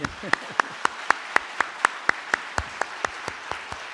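Slow, sparse clapping from a congregation at a Korean church's installation ceremony for a new pastor, about fifteen distinct claps at an even, unhurried rhythm against a quiet room.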